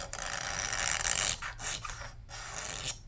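A hand scraper shaves a composite guitar saddle, with close rasping strokes: one long scrape, then several shorter passes broken by brief pauses.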